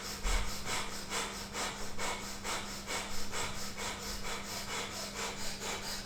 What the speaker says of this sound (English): Short, sharp pumps of the navel as the breath comes in and out of the nose.